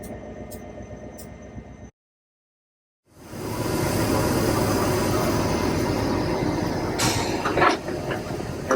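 A Panama Railway train heard from inside the engineer car: a low, continuous rumble and roar of the moving train, loud and close, with brief clanks and rattles, after an earlier stretch of quieter cab noise and a short silence.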